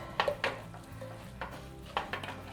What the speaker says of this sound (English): the bacon and onions stirred in with the cabbage. Cabbage is an interesting thing to stir, isn't it?